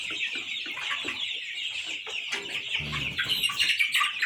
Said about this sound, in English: The batch of 500 birds.